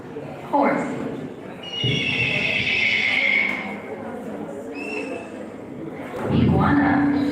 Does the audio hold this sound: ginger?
no